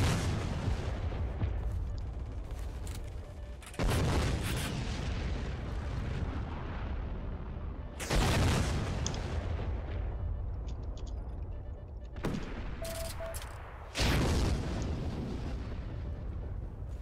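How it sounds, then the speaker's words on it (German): Heavy gunfire and explosive booms in the Heroes & Generals war game, several loud blasts arriving every few seconds, each trailing off into rumbling noise. "Hör auf zu schießen."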